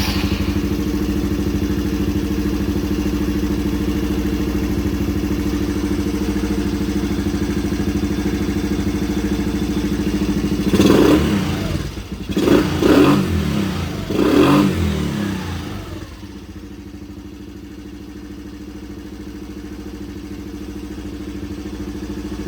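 A motorcycle on a test ride after its carburetor has been cleaned, engine running steadily and loud, with three strong revs in the middle before it settles back to a smooth idle-like hum.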